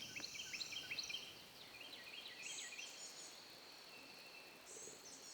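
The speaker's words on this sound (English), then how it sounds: "You can hear birds all around here." Faint birds chirping and calling in the distance outdoors, with soft high twitters coming in short bursts over a quiet background hum.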